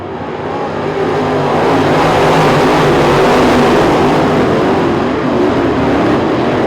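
Race cars roar off at the green flag for heat 1 of 8 at the 2021 Winter Nationals, a loud, dense wall of engine noise that swells and holds steady as the pack accelerates away from turn 4.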